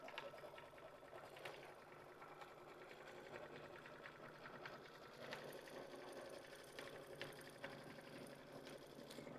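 A sewing machine stitches out an embroidery design on a tote bag, running as a steady, continuous rapid hum and needle chatter, faint and unbroken for the whole stretch with no talking.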